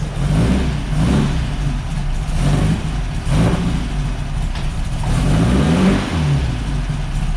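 A Baja Bug engine running on old gasoline revs up and down repeatedly in a loud, close, rough rhythm, with the motor rocking as it runs.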